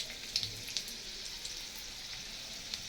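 Garlic fries in hot oil with a soft, even hiss and scattered small pops, faint and close by.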